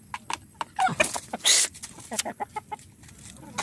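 Chickens being fed in a yard without a coop cluck in a burst of short, close calls, some quick and clipped, others drawn out, with a brief flurry of louder activity partway through.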